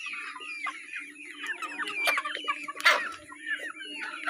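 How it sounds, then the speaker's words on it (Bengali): Bahama chickens in light, multicoloured and golden varieties clucking in a flock, a busy overlapping chatter of short calls with a few louder squawks, close and clear against a quiet background. "আমাদের কাছে লাইট বাহামা, মাল্টি কালার এবং এই যে দেখতে পাচ্ছেন এই যে গোল্ডেন কালার বাহামা মজুদ রয়েছে।"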